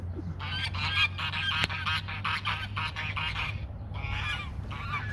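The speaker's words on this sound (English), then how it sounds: "Now the geese are ticked off." Geese honk in repeated harsh bursts, loud and close, with several calls overlapping through the stretch and brief pauses between, over a steady low background hum and with seagulls nearby.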